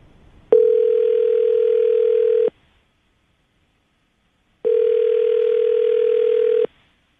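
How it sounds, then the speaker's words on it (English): A telephone ringback tone after a number is dialed, two long identical rings about two seconds each separated by a pause, clear and steady on the line. "I'm going to dial the phone number, see if we can get her on the phone."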